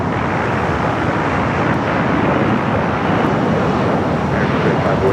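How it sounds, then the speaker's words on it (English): Qatar Executive business jet taking off at LAX, a loud sustained broadband engine roar with wind buffeting, steady throughout without clear voices. "we got the Qatar executive taking off 25 left"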